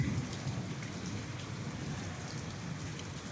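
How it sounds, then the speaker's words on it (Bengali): Heavy monsoon rain pours steadily and densely with a low, rumbling undertone of thunder, unbroken and fairly close, with no voices. "ঠিক তখনই গুড়ু গুড়ু গর্জনে ওই যে শোনা যায় আবার ঝমঝমিয়ে নামলো এই বৃষ্টি।"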